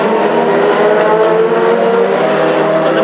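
Classic hot rod race cars roar around a floodlit stadium oval at Northampton on a cold night, a loud sustained engine drone with steady revving close by and no pauses.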